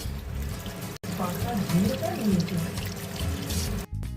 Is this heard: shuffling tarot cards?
no